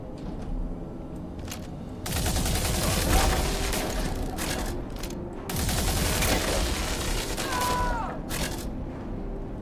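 Electrical guns firing in Star Citizen, two sustained bursts of dense crackling fire, each lasting a few seconds with a short pause between them, fairly loud and close.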